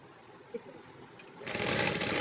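A sewing machine stitching along a pant seam starts up after a few faint clicks and then runs in a continuous, moderately loud whir, with no talking.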